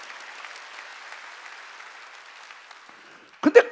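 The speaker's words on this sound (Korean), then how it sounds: "깨달은 사람만 박수라고." Church congregation at a Wednesday worship service applauding: a broad, fairly soft wash of clapping that gradually thins out, then a few louder close bumps and a voice at the very end.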